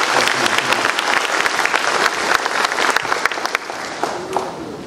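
A church congregation applauds, steady dense clapping from many hands in a reverberant hall, loud and continuous for several seconds before easing slightly.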